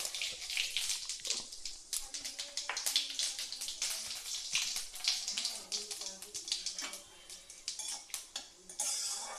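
Whole cumin seeds hit hot oil in a pan for a stuffed kakrol dish, giving a crackling sizzle laced with rapid clattering scrapes of a spoon, close and fairly steady throughout.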